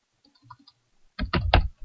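Several quick keystrokes on a computer keyboard, typed close by in a quiet room after a few faint earlier taps, clicking in a short burst.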